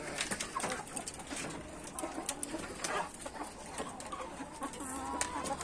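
Chicken clucks and bird calls scattered throughout, moderately close, over a busy outdoor background with no talking.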